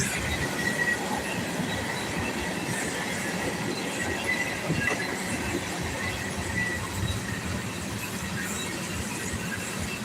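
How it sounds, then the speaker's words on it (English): A video game train rolls past continuously, its wheels squealing and rails clacking in a dense, loud rumble that holds steady for the whole stretch without any voices. "Satan, there went your train."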